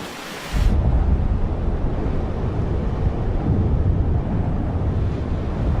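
Strong wind blows over Sulawesi in a loud, continuous low roar that buffets the microphone, rising after a brief quieter start and holding steady with rumbling gusts.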